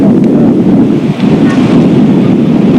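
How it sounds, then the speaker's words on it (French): Strong wind gusts buffet the microphone in a loud, continuous low roar that swells and dips slightly. "Mais là, t'as le rafales, dis donc."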